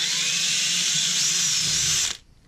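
Electric drill boring a small pilot hole into wood for a DIY PC speaker, a close, loud, high whirring that holds steady for about two seconds and then cuts off abruptly.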